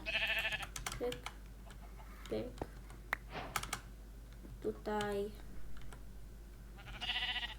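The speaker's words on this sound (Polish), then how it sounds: "Nie, nie, owca, owca, zostań tu" A Minecraft sheep bleats a few times between fast computer keyboard typing, short wavering calls standing out over the clicking, with someone briefly speaking.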